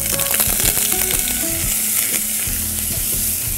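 Onions hit hot oil in a pan for Egyptian moussaka sauce, a loud, dense sizzle of frying with spoon scrapes and stirring knocks running throughout.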